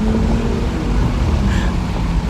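A 2020 Bentley Flying Spur First Edition with its W12 engine pulls hard under full acceleration, giving a loud, steady, smooth roar that fills the cabin throughout.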